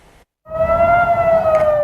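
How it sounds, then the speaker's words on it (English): A loud civil defense rocket warning siren in northern Israel wails in a steady rising tone after a brief silence, sustained and piercing, with no voices over it. "In northern Israel, sirens warned of rockets"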